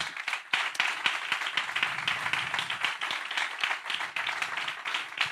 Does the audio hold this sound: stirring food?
no